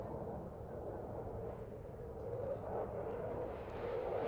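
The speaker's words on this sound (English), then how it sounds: "This is a Typhoon with a full phase 3 enhancement weapons fit." A Eurofighter Typhoon with a full Phase 3 Enhancement weapons fit flies a display at the Farnborough International Airshow, giving a broad, distant jet roar that swells slightly toward the end, with no talk.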